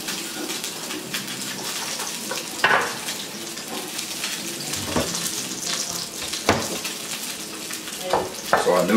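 Ramen noodles fry in a pan as the sauce reduces, giving a steady loud sizzle with bursts of crackle and stirring scrapes throughout.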